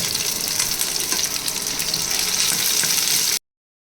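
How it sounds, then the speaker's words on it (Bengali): Chopped garlic, onion and green chili hit hot oil, giving a loud, dense, continuous sizzling hiss that holds steady and then cuts off abruptly. "তেল গরম হয়ে গেছে, এখন দিয়ে দিব রসুন কুচি, দিয়ে দিব পেঁয়াজ কুচি, দিয়ে দিব কাঁচামরিচ"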